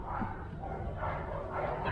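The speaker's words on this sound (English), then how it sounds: "Neighbors' dogs are having fun." Neighbours' dogs bark and yip in the distance outdoors during a February beehive inspection, a few muffled barks set against a soft background hum.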